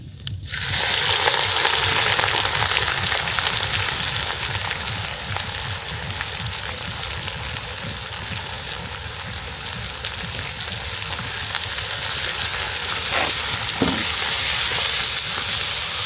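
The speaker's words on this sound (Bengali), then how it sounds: "এরপরে দিয়ে দেব আমরা গোটা জিরে, এরপরে দিয়ে দিব পেঁয়াজ কুচি" Whole cumin and chopped onion fry in hot oil in a kadai with bay leaf, giving a loud, steady crackling sizzle that runs unbroken throughout, with occasional stirring scrapes and no voices.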